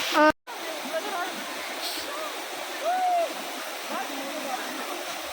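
Ananthagiri waterfall in the Araku valley makes a steady, broad roar of falling water close by, with a faint high call and a brief squeak over it.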